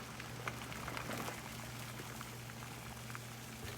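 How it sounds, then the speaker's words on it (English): Salted water for spaghetti boils in a pot on the stove, a faint, steady bubbling hiss that runs unbroken throughout under a low kitchen hum. "So our water is already boiling."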